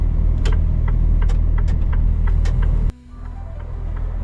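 Car driving along a road with a loud, steady low engine and road rumble. Sharp clicks and knocks run over it, and partway through the noise drops briefly to a lower, quieter drone.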